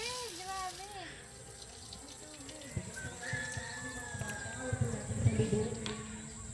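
Water runs steadily from a tap in the background on a farm in the Philippines while birds chirp and a voice speaks intermittently.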